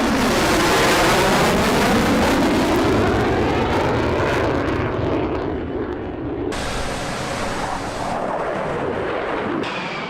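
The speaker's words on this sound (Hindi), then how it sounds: "पोलैंड के ऊपर से ये फाइटर जेट उड़ा है" F-16 fighter jet roaring overhead above Poland, a loud sustained jet roar with a sweeping pitch shift as it passes, gradually easing away with no talking.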